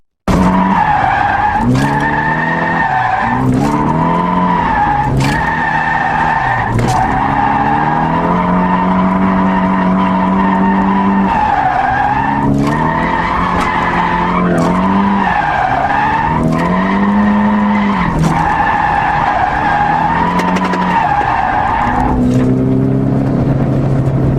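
A car engine revving hard as tires squeal and skid repeatedly, loud drifting with rising and falling engine pitch throughout.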